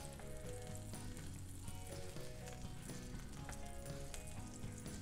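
Floured basa fillet fries in a hot pan for an Italian lemon-and-olive dish, giving a steady, dense sizzle that holds at an even level with no talking.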